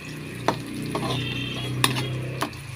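Corned beef being stirred in a pan with a utensil, giving a few sharp scraping clinks against the metal over a low steady sizzle.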